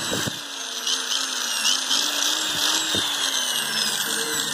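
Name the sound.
Hitachi hammer drill running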